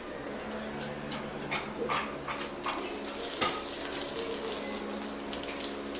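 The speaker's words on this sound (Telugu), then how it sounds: "అది ఇప్పుడు వేసేస్తే ఆ సగకి బాగా ఫ్రై అయిపోతుంది కరివేపాకు" Curry leaves dropped into a hot pan of oil while making pindimiriyam, a soft close sizzle and spitting crackle with a few sharp pops and the scrape of stirring.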